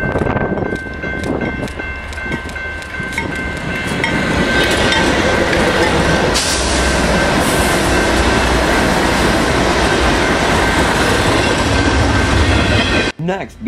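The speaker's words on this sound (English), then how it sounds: "BNSF 5357 brings a Z train west on the former Santa Fe" A BNSF intermodal Z train rolls west on the former Santa Fe Chillicothe Subdivision in a snowy blizzard, its loud, steady rumble and wheel clatter running close and continuous before cutting off abruptly near the end.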